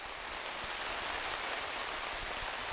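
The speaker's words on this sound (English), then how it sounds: "The amount of rain coming down." Heavy rain pours steadily at an outdoor high school baseball game, a dense, even hiss of falling water with occasional low thumps, with no one talking.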